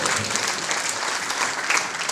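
A crowd at a gathering gives a dense, even round of clapping for a participant, close and continuous for the whole stretch with no talk over it.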